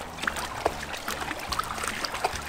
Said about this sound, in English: A quick dip in the river